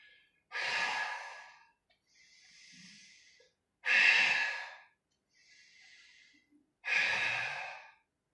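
Deep, forceful exhalations during a Pilates leg exercise, three loud breaths out alternating with quieter, softer inhales, close and steady in rhythm with no talking.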